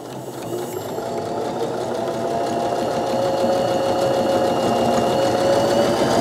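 A Baby Lock Joy sewing machine runs steadily, stitching through fabric with a continuous whirring hum that builds slightly and holds at a close, fairly loud level without any talk.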